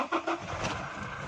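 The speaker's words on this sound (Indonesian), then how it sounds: "Kalau untuk starter ini harus kopling dulu bosku." A 2018 Toyota Hilux G diesel 4x4 manual starts up, giving a brief cranking burst and then settling into a steady mid-pitched running rumble, close and moderately loud.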